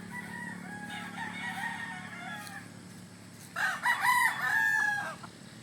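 Roosters at a game farm cording area crow and cluck, a drawn-out crow near the middle followed by a louder, closer crow, over a low steady background hum, with no talking.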